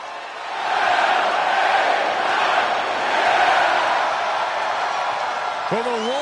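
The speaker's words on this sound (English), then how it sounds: "the roar of the crowd tells you all you need to know" A large crowd in a wrestling video game roars and cheers as a steady, loud wash of noise, with a brief higher voice-like sound near the end.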